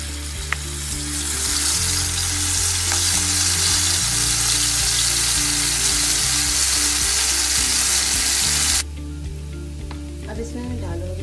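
Garlic paste sizzles in hot coconut oil in a pan, a loud crackling fry over a low hum that drops off abruptly near the end, with faint occasional scrapes.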